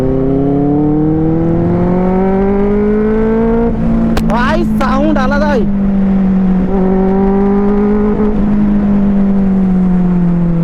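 A superbike's engine droning steadily as it is ridden, a loud close sustained tone that shifts in pitch with speed, briefly broken by a burst of louder revving midway.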